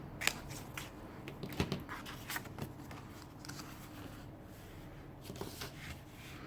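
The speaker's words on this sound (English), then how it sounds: "I hope I cut relatively straight." Scissors cut through paper for a junk journal folio in a run of quiet, close snips and soft rustles. No one speaks over it.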